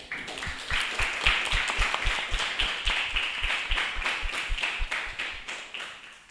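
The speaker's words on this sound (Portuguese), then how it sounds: "Pessoal, uma salva de palmas aí." Audience applause following a final student networking presentation, a steady sustained round of many hands clapping at moderate distance, even and continuous for several seconds.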